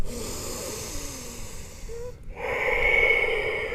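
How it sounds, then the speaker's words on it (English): Audible breathing during a yoga forward fold, a slow nasal inhale followed by a longer, louder exhale, close and isolated. "Take an inhale here. And as you exhale, you fold. 3 breaths here."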